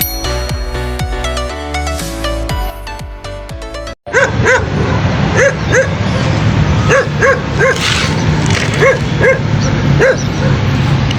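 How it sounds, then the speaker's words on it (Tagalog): A dog barks repeatedly in an irregular rhythm after a few seconds of music, the barks sharp and fairly close. "Maingay ito aso na katabi natin."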